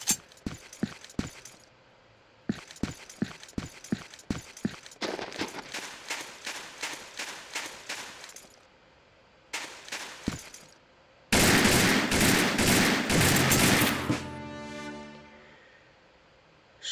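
Pistol shots from an M1911A1 in the Soldier of Fortune II video game, a series of sharp, loud single reports in quick bursts, followed by a dense roaring volley that fades out.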